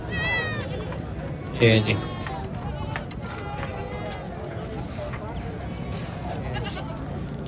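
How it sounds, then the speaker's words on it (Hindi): Goats bleat at a busy Dina livestock market, one loud call standing out briefly amid a steady crowd murmur, with someone talking throughout. "माशाल्लाह से ताज़ी सही बकरी है जी"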